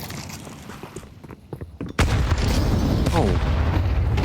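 Grenades go off in a Counter-Strike match at a professional esports league game on the Anubis map, a sudden loud blast followed by a dense rumbling roar of explosions, with a caster's voice underneath.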